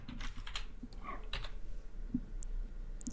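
Quick keystrokes on a computer keyboard, a short burst of close clicks with small gaps between them, with no voices.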